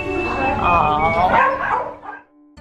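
Puppies at a humane society yipping, barking and whimpering in high, excited bursts close by, mixed with people chatting, then trailing off into a few soft whines.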